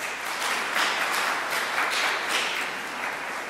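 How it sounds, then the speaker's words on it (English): A church congregation at a Sunday Advent service gives a warm round of applause, steady and even clapping throughout with no talking over it. "So let's give them a round of applause."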